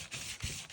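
Fingers rubbing over paper card during stamping and card-making, soft dry brushing strokes repeated in a quick back-and-forth rhythm, close and quiet.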